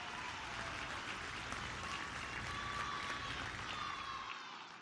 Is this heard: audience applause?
yes